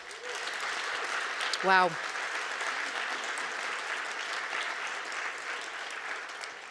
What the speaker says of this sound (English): A big round of applause for our talkers.